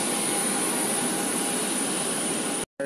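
Loud, steady jet engine roar at an airport while waiting to board a plane, continuous and close, cutting off abruptly near the end.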